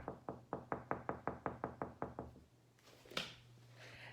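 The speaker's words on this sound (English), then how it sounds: "put the arm against the wall and then knocking" A hand knocks against a wall in a steady, quick series of about eleven close, even raps during violin vibrato practice, which stop halfway through before a single softer thump.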